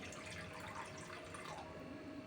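Water is poured from a cup into a pan to make sugar syrup for moong dal halwa, heard as a soft, continuous trickling splash, faint and unaccompanied.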